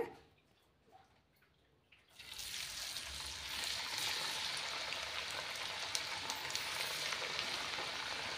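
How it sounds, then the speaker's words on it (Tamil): Thattai rice crackers, made with peanuts, garlic and ginger, drop into medium-hot oil after a quiet moment, setting off a loud, steady, crackling sizzle that fills the rest of the clip without letup. "இப்போ நம்ம இதை ஃப்ரை பண்ணி எடுத்துக்கலாம்."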